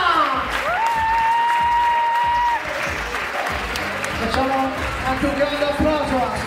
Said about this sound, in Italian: Facciamo anche un grande applauso a